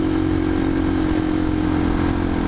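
A 2007 Husqvarna SM610 motorcycle under acceleration gives a loud, steady single-cylinder engine drone, close and continuous with no talk over it.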